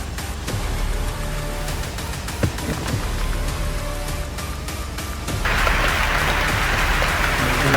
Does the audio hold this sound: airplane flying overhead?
no